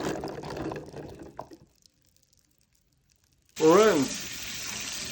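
Liquid from an opened can of chickpeas is drained while a tap runs, a loud steady wash of water that starts abruptly after a stretch of talk and silence and continues to the end.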